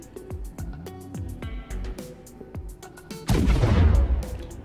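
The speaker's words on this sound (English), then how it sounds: "Two SAS 5 torpedoes." A series of short impact thuds strike the Banu Defender ship in a video game, then a louder roaring blast from the SAS 5 torpedoes that sustains near and heavy for the last second and a half.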